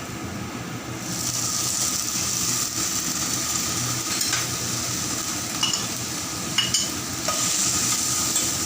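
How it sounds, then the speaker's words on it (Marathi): Whole masoor lentils are tipped onto onions fried reddish-brown and stirred in a pan for Maharashtrian aamti. A constant close sizzle runs throughout, with scraping and a few sharp metallic clinks of the spoon against the pan. "आता त्याच्यावर आपण मसूर टाकूया।"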